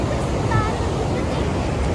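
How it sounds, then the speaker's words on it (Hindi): Water rushing steadily through a diversion channel beside a highway near Kiratpur Sahib, a continuous broadband roar with no pauses, close and fairly loud. "यहाँ ऊपर से इस साइड से पानी आ रहा है"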